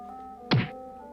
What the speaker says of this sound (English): So that one just makes a thud.